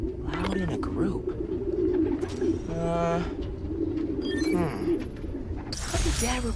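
Pigeons coo in a park in the Marvel's Spider-Man: Miles Morales video game, a recording of soft, throaty, repeated coos in overlapping rounds under steady background noise and a swelling electronic tone, with speech also present.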